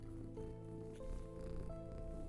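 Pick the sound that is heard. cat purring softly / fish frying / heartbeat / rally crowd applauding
cat purring softly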